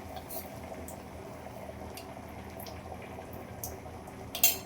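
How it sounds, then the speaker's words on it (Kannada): Sambar with tomato, chili powder and lentils simmering in a pot, giving a steady low bubbling and gurgling with a few brief splashy crackles near the end, close and moderately loud, no talking. "ಖಾರ ಕುದೋಷ್ಟಿಗೆ ಅದ್ರ ಕೂಡ ಒಂದು ಸ್ವಲ್ಪ ಬೇಳೆ ಕುದ್ಬಿಡುತ್ತೆ."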